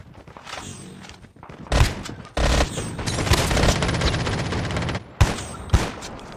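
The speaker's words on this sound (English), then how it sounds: "kill somebody with that shotgun" Shotgun gunfire in Call of Duty rings out in sharp blasts, with a dense stretch of rapid shots in the middle and a few separate heavy bangs near the end, loud and close.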